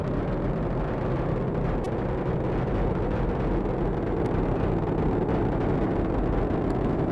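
The SLS rocket roars during the Artemis 1 launch as a dense, continuous, low rumbling thunder, steady and loud throughout with no break.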